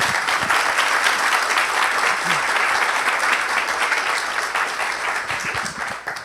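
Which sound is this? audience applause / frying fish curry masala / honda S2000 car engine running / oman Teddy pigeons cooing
audience applause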